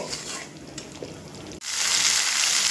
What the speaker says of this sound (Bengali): কালারটা সুন্দর করবার জন্য এখানে দিয়ে দেব কাশ্মীরি লঙ্কার গুঁড়ো দিয়ে আবারও কিছু সময় ধরে কষিয়ে নেব